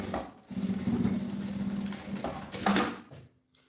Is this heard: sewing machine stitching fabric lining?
yes